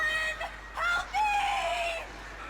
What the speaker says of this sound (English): Oh no. Birds. They're back.